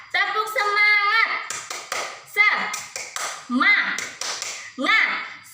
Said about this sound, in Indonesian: sekarang kita melakukan tepuk semangat dulu